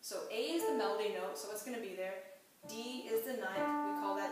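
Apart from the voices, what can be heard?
None of the usual background noises is heard.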